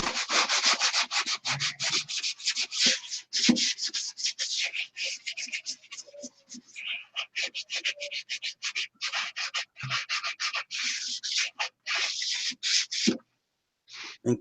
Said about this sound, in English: That microphone makes sanding sound like it's 10 times more aggressive than it really is